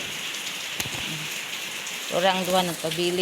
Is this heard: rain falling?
yes